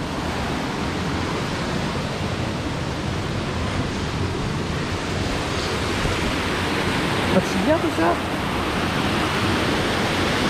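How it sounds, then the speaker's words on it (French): A waterfall heard from the top of the cascade, a broad steady roar of falling water filling the scene, with a brief voice near the end. "On est en haut de la cascade."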